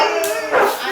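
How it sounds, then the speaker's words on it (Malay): A dog on a dairy farm barking, one short howling, yelping cry heard nearby, brief and fairly loud. "anjing"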